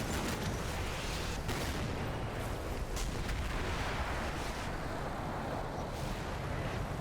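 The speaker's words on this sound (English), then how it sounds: "So he's firing a shot every 10 seconds." Artillery firing in the Cold War tactical wargame Combat Mission Cold War, a steady dense rumble of distant bombardment with faint recurring booms, continuous and loud throughout with no talk.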